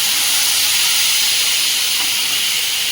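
Whole spices, dried red chillies, cumin, cinnamon, cardamom, cloves, and spice paste sizzle in hot oil, giving a steady, loud hiss that fills the whole span without pause.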